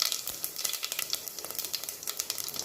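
Fennel seeds crackle in hot oil in a pressure cooker, with a close, steady patter of quick pops and sizzles and no talk.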